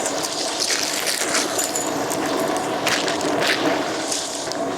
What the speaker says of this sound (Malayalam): വെള്ളം തിളച്ചിട്ടുണ്ട് നമുക്കിനി അരി ഇടാവേ